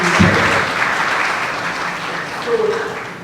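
Applause from an audience at a community scholarship ceremony in Houston, Texas, steady dense clapping throughout with a brief voice rising near the end.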